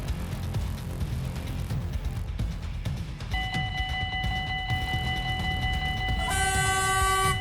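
A speeding train rushes past a railway crossing with lowered barriers, a loud rumbling roar of wheels and wind, joined midway by a sustained crossing bell or horn tone that swells in brightness near the end.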